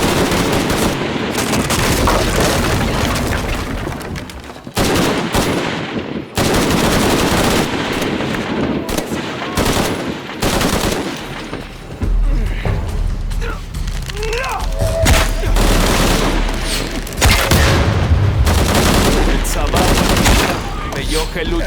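Sustained automatic gunfire from the Shadow of the Tomb Raider video game, loud and dense, with rapid bursts and booms running almost continuously, brief lulls, and in-game voices shouting over it.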